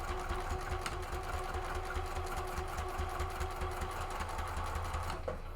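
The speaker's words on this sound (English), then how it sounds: "put this up on the machine and try and align with that initial top stitching" A sewing machine runs steadily while topstitching a faux leather case for a key fob, its motor humming in a continuous close, even drone with a fast mechanical needle rhythm and a brief stop near the end.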